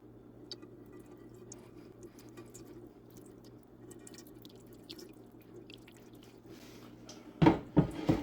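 Liquid from homemade fruit juice is gently poured off the top, with a faint drip and trickle under low background hum that swells into a few louder splashing bursts at the end.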